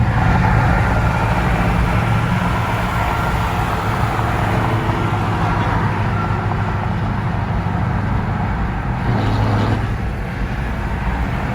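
Several cars roll past on a road on the way to a car meet, a steady loud wash of engine and tyre noise that swells briefly near the end, with no voices.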